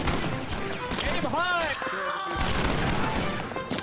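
A pistol volley in a video game rings out as a few sharp shots amid a busy battle mix, with a voice talking over the action.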